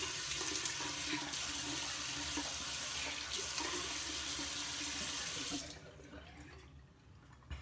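A bathroom tap runs in a steady, close stream as a safety razor is rinsed during a wet shave, then the water cuts off near the end, leaving quiet room tone.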